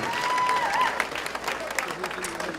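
Applause rises from an audience at a teacher-of-the-year gala, loudest at first and then thinning to scattered claps, with some murmured voices and a whistle-like tone over it.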